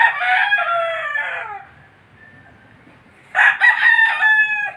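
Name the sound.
brood stag rooster of the Sweater breed crowing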